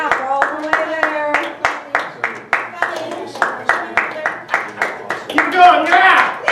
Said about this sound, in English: Okay, we clap all the way there.